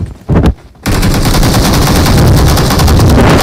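Rapid automatic gunfire from the battle royale game BGMI during a tournament grand finale, a few short bursts and then a loud, continuous stream of shots filling the rest of the clip.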